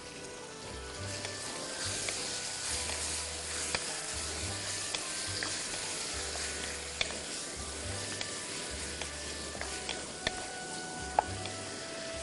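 Bone-in chicken pieces sizzle steadily in a hot pot for Bangladeshi-style chicken haleem, a dense continuous frying hiss with occasional pops and stirring scrapes, close and loud with no voices.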